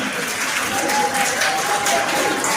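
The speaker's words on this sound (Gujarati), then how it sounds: "ખૂબ ખૂબ તાળીઓથી વધાવશો" An audience at an annual prize-giving ceremony applauds the first-place winner, sustained even clapping with some crowd noise beneath it.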